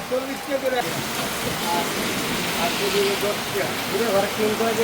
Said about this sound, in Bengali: রাস্তার মধ্যে আমাদের বৃষ্টি ধরছে